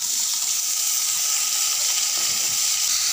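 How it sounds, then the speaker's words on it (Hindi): Chopped potatoes dropped into hot oil with panch phoron for aloo bhujia, giving a loud, steady, close hiss of frying that holds without a break. "अभी कटा हुआ आलू को डाल रही हूँ।"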